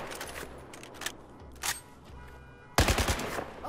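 Gunfire in a military shooter video game, a few quick bursts of shots followed by a louder, denser volley near the end, with no talking over it.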